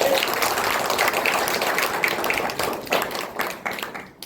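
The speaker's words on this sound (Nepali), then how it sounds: "ओके ल हुन्छ ताली बजाइदिनु सक्छ।" An audience at an engagement ceremony in Birgunj claps together, giving a dense, continuous patter of applause for about four seconds that thins toward the end, with a few voices mixed in.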